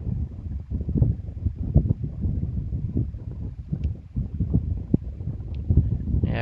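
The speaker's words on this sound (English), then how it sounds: "I can probably almost hear the wind blowing." Wind blowing across the microphone outdoors during coil pottery work, a continuous low rumbling buffet with gusty swells and a few faint clicks, with no voices.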